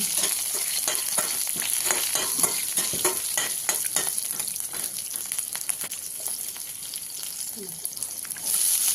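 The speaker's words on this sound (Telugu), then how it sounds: "పచ్చిమిర్చిని కూడా యాడ్ చేసుకుని మరి కాసేపు ఫ్రై చేసుకోవాలి" Continuous hissing sizzle of garlic and green chillies frying in oil, with intermittent stirring clicks, close up and steady throughout.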